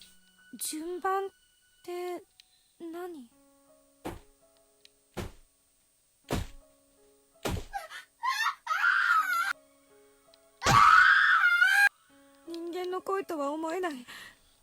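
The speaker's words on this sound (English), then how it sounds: "I've never heard screaming like this before" Screaming in the horror video game Corpse Party: a series of sharp, wailing and sobbing cries broken by sudden sharp knocks, rising into a long anguished shriek near the end, loud and close with silent gaps between bursts.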